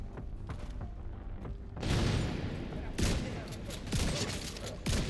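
A frag grenade goes off in The Division 2 video game, a sudden loud blast followed by rumbling debris and scattered gunfire, with quieter game sounds before it.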